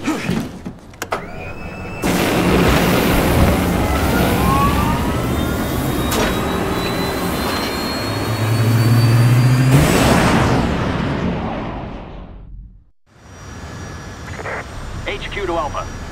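A jet engine firing up aboard an aircraft in the video game Resident Evil 6, a loud rising whine and roar that swells, then drops off sharply near the end, with game dialogue and sound effects around it.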